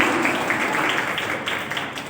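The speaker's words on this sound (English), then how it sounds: "So I want to clap for all of them." Group of teachers applauding after an in-house school training session, a steady dense patter of many hands clapping at moderate distance, fairly soft and continuous without talk.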